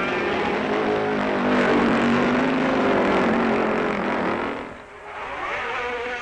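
Yamaha 250cc racing motorcycles, new Autolube four-cylinder machines, scream off the start at the 1968 Isle of Man TT, a loud sustained high engine whine that dips briefly and then returns.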